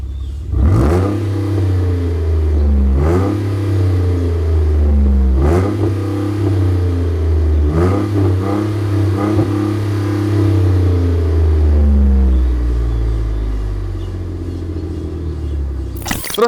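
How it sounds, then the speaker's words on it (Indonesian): A yellow Jeep Wrangler JK two-door Rubicon with an aftermarket Gibson Metal Mulisha exhaust revs repeatedly in sharp bursts, roaring up and dropping back several times, then settles into a steady deep idle rumble. "Buat kalian yang suka dengan suara knalpot yang kencang"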